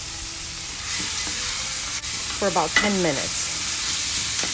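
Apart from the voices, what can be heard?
olive oil and soffritto vegetables sizzling in a pot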